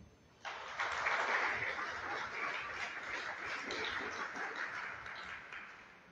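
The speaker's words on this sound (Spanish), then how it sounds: "Dale un aplauso." A congregation breaks into applause after a brief quiet moment, a sustained wash of clapping from many hands that holds steady and then slowly eases.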